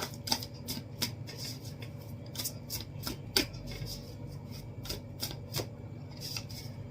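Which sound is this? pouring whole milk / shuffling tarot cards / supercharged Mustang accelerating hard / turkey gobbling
shuffling tarot cards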